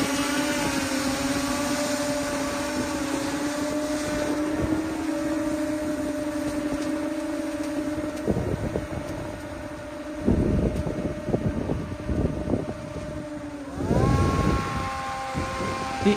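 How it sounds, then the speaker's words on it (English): A 3D printed VTOL drone shifts from hover into forward flight, its steady motor whine holding a constant pitch before a sharp rise near the end as it speeds up into fixed-wing mode, with wind buffeting the microphone throughout. "The aircraft accelerated smoothly and entered fixed wing mode successfully."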